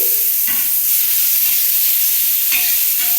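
Tomato added to a hot frying pan with onion and garlic, a loud continuous sizzle and hiss with several short stirring scrapes.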